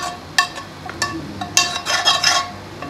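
Pumpkin being stirred into cold raita in a bowl, with a few sharp clinks of a spoon against the bowl and soft scraping, close and fairly quiet with no talking.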